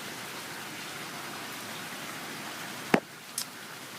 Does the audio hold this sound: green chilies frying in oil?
no